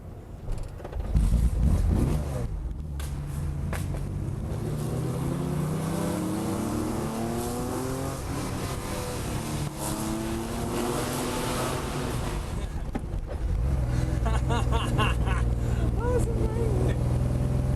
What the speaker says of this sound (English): it's not a pretend rally car, it is a real rally car